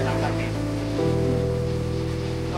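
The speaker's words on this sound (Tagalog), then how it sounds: "Ayan na, malalaki yung alon." Big ocean waves roll onto a windy Boracay beach in a continuous loud wash of surf, steady and close, with a faint tonal hum underneath.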